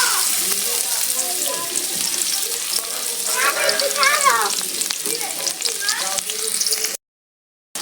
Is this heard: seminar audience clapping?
no